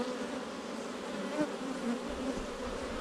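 Honey bees buzz around a newly installed hive, a close, dense, steady drone with individual bees whining past now and then, with no one speaking.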